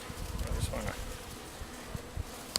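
Soft, steady buzzing of honeybees at a low level throughout, with occasional faint knocks and rustles nearby as a bee package is installed in a hive.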